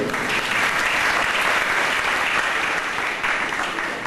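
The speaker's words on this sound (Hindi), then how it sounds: "तालियां बजाइए इनको" A crowd claps steadily and loudly for a few seconds, a dense, even wash of applause with no pauses.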